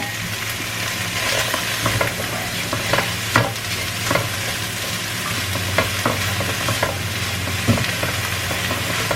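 Bitter gourd stir-fried in a hot pan, with a steady loud sizzle and frying crackle punctuated by intermittent utensil scrapes and taps from stirring.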